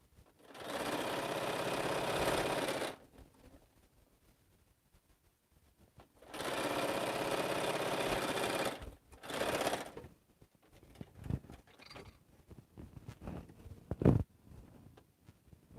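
A sewing machine runs in two long stitching bursts and a shorter third one while the last seam of a quilt is sewn, with quiet pauses and a few soft clicks and handling knocks between runs.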